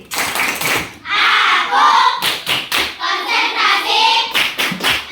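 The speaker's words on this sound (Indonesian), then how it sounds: "kita harus semangat, ya, harus tepuk konsentrasi" A class of schoolchildren performs a rhythmic concentration clapping game, sharp claps in quick patterned bursts mixed with children chanting together in unison.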